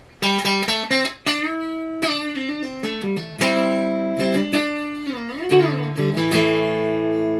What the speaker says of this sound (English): If I throw it in the neck pickup here, there's not many sounds like this.